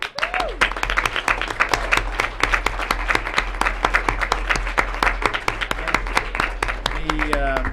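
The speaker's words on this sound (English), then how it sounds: "big round of applause" Council meeting audience in Sierra Madre giving a round of applause, dense continuous clapping from a room of people, moderately close, with a brief voice near the end.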